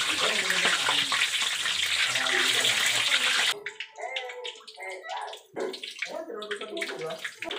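Pork leg (pata) deep frying in hot oil, a dense loud sizzling hiss for the first half that then drops away, followed by close speech with softer crackling underneath.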